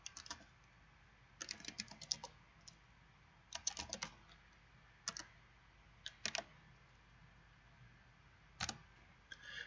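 Quick bursts of typing on a computer keyboard, clustered key clicks separated by short pauses, close and fairly quiet.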